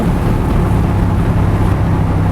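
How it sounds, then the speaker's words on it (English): A 2021 Aston Martin Vantage Roadster's V8 engine drones loudly and steadily from the open-top sports car, its low rumble mixed with heavy wind buffeting on the road. "that engine, I'm not sure that noise would ever get boring, that V8 roar and the crack on every upshift, downshift"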